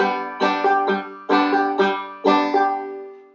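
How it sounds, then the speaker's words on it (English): Banjo played clawhammer style in a strum, strum, thumb-pop bum-diddy rhythm, with bright plucked attacks and ringing strings across three repeated phrases, close and clear with no talking. "you're going to do like a strum, strum, thumb pop in kind of a bum diddy rhythm that sounds like this"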